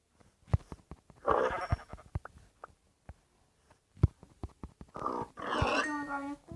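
Sheep bleat a few times amid sharp clicking and tapping, with brief voices; the sounds are thin and game-like, fairly quiet.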